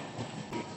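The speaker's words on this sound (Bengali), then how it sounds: "ওই যে ট্রেন" A train passes on an Indian railway line, a brief dull rumble of rolling wheels lasting under a second.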